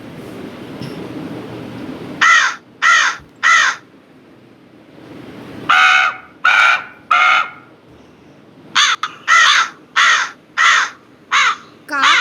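A crow caws loudly and close in clusters of three to five harsh calls separated by pauses, played back as a recorded sound through a device speaker.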